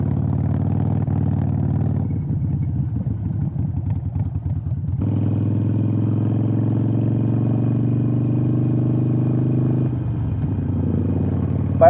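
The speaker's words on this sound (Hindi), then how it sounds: "बाय द वे बाइक ना अभी भी मिसिंग कर रही है" A Harley-Davidson Iron 883 motorcycle engine runs steadily at low rpm with a slightly uneven, stuttering throb, loud and close throughout, its tone shifting a few times as the throttle changes.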